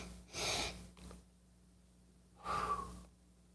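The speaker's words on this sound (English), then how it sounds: "2 sniffs and an exhale." A person nearby breathing out loud: two quick forceful sniff-like breaths, then after a pause a single longer exhale, all fairly quiet over a faint steady hum.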